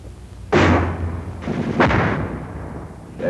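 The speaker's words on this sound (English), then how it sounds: "mortar fire is high-angle fire which can slam down from the sky" Mortar fire in a military infantry training setting: two heavy, sharp blasts about a second and a half apart, loud and close, each followed by a rumbling decay with no talking.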